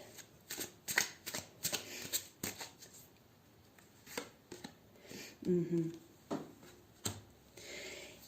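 Tarot cards being shuffled by hand during a pick-a-card reading, a run of quick papery riffles and flicks in uneven bursts, close and clear with no talking.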